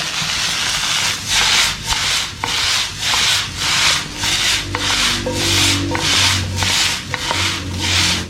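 Vegetable spring roll filling is stir-fried and tossed in a pan, producing loud, close, rhythmic scraping strokes, about a dozen in an even back-and-forth pattern.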